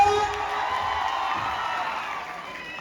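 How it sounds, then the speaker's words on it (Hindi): A crowd claps and cheers in a steady, loud wash of noise that fades slightly toward the end. "शमी मैडम से जोरदार तालियां।"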